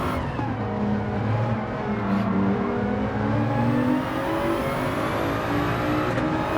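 Race car engine in Gran Turismo 7, a steady droning whine with shifting pitch as it downshifts through gears, close and continuous with no talking.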